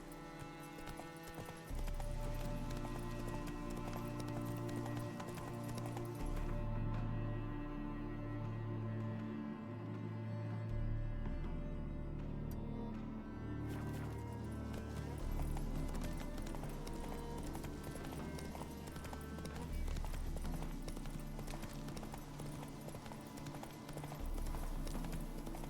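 Horse hooves clip-clop steadily on the ground during riding in The Witcher 3: Hearts of Stone, continuous and fairly close over game music and ambience, with a brief whinny.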